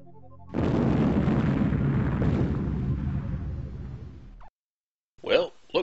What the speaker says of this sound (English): What'll they do when that explosion reaches them?